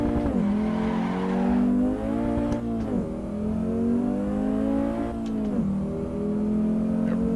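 A 1994 Audi Sport Quattro rally car's engine revs and drops repeatedly as it slides with clutch kicks, with loud sustained engine drone and brief surges, close by.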